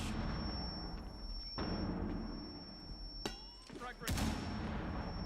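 Grenade blasts in the tactical shooter Rainbow Six Siege, several broadband booms landing in quick succession near the end, over a constant game-audio bed.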